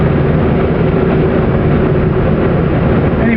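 1969 Saab 96 car engine while driving, a steady, loud interior drone of engine and road noise from inside the cabin, even and unbroken, with no talking.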